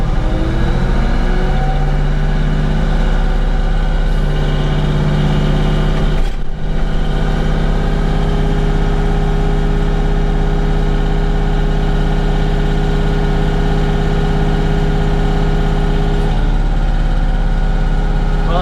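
A Bobcat tractor engine with a hydraulic lifting problem runs steadily and loudly, its low droning note rising slightly in pitch after a brief dip, then holding a constant higher-revving tone to the end.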